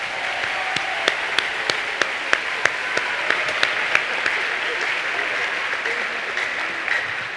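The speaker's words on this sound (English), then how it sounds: "can we please give a round of applause to our 21 beautiful," Applause fills a commencement hall at Community High School in Ann Arbor, a dense steady clapping from a large crowd with sharper individual claps standing out, sustained loudly for the full span.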